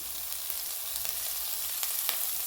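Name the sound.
onion and chillies frying in oil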